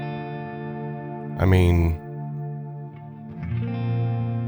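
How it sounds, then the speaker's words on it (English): A stereo ambient reverb guitar effects pedal gives a sustained, washy guitar tone with a long shimmering tail, while someone speaks briefly over it partway through. "this stereo ambient reverb stuff, it's got to stay."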